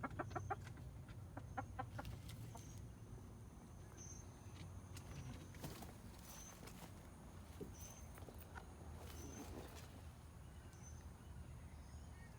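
Young hens cluck in a chicken coop, with repeated short, close clucks early on, then softer scattered calls and light shuffling over a steady low background hum.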